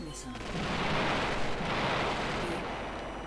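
Blast missile explosions in the video game Battle Engine Aquila make a loud, continuous rumbling boom that swells and lingers for a few seconds, with no voice over it.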